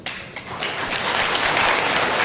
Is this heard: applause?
yes